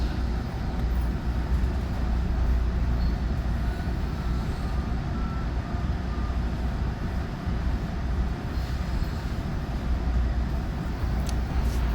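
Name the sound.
exo commuter train ride between Montreal and Mascouche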